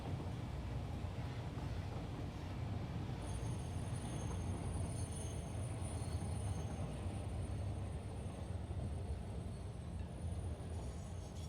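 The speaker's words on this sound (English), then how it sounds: "So the trains are still going." Trains on a sky rail line in a video game give a constant low rumble and rolling drone, continuous and fairly faint, with a thin high whine joining partway through.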